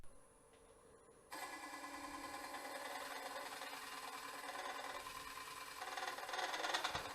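A Woodcut Bowlsaver Max4 coring a wooden bowl on a lathe: a quiet hum that turns on abruptly and becomes a steady, whirring, grinding cut, swelling slightly toward the end, with no voices.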